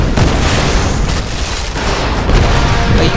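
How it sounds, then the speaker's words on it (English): Explosions in the Tomb Raider video game, a sustained, loud barrage of deep booms and blasts rumbling continuously with no clear gaps. "I don't remember the other games having this much explosions."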